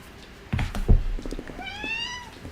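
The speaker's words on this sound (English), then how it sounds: "I think my cat wants a snack." A pet cat meows in a rising, drawn-out call near the end, preceded by a few short household knocks and clatter, fairly close and moderately loud with no talking over it.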